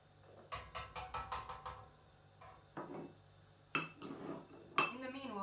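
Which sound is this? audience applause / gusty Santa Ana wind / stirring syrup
stirring syrup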